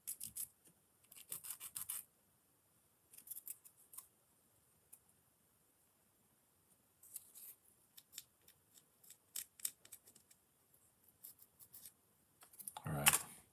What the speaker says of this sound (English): Now it can be sanded.